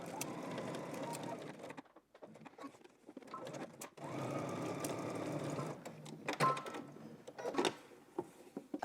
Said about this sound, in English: Back stitch at that corner just to secure it.